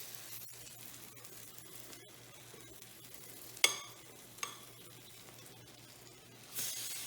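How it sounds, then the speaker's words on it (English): French toast fries in a pan over medium heat with a soft, steady sizzle, faint and close, broken by a few sharp clicks and a brief hiss near the end. "So we're going to let this cook about 3 minutes per side over medium heat"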